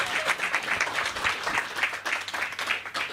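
An audience at a live queer cinema event applauds a performing act with steady, dense clapping that fills the whole moment, with faint voices underneath.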